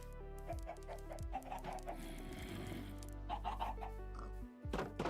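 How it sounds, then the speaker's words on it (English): Chickens in the Minecraft video game make creaky, clacking footstep noises in a quick, repeated run of clacks and clucks, heard close and alone with no talk. "I don't remember chickens ever making that sort of creaky clacking noise. Oh, it is their little feetsies."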